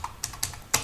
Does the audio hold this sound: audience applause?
no